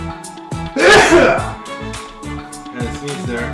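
A single loud sneeze bursts out close by in a casual setting, with voices talking around it before and after.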